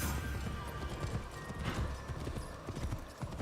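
Horse hooves clip-clop steadily in Assassin's Creed Shadows, a close, continuous rhythmic trot with an occasional whinny, with dense ambient game sound underneath.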